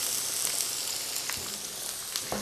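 Sliced red pepper, courgette and yellow pepper fry in a pan with beef juices left from meatballs, giving a soft, even sizzling hiss with occasional light pops, close and fairly quiet.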